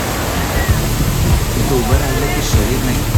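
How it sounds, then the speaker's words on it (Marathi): Mini waterfall at Kalamawadi Dam crashing down in a loud, steady rush of water heard from right in the falls, with a few brief splashes and thumps over the roar. "मी आहे अगदी वॉटरफॉलच्या मधोमध पाणी अंगावर आदळत आहे"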